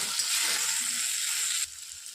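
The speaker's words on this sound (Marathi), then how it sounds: "छान असे वांगे आपले शिजत आलेले आहेत आणि थोडे क्रिस्पी पण झालेले आहेत" Eggplant frying in oil in a pan, with a steady, loud bright sizzle close by that cuts off abruptly near the end, leaving quiet.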